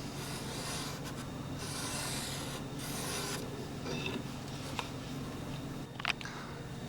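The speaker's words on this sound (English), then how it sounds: "Just place it down right on top. Scribe your line." A pencil scribes a line across a wooden beam to mark a bird's mouth cut. It makes several short scratching rubs up close, with pauses between them, and a small tap near the end.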